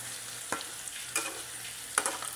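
Potatoes frying in a pan sizzle steadily while a utensil stirs them, with a few sharp scraping strokes standing out over the constant hiss; no one talks.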